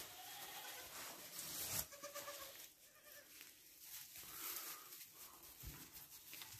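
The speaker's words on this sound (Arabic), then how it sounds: "دابا راه ولات 40 معزة" A herd of about forty goats and sixty kids, the young weaned from their mothers and being bottle-fed, fills the air with repeated bleating, several calls overlapping at close to mid range against steady farmyard background noise.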